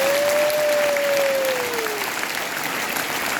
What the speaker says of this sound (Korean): 요셉 박수 한번 쳐줘봐